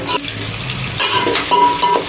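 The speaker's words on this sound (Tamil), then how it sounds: "இஞ்சி பூண்டு பேஸ்ட் போட்டு நல்லா வதக்கிடலாம்." Ginger garlic paste sautéing in a pan with onions for mutton biryani, a loud close sizzle broken by quick spatula scrapes and stirring strokes.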